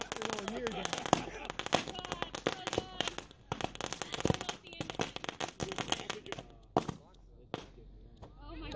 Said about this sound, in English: there's a bunch of fireworks now